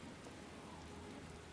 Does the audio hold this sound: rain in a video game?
yes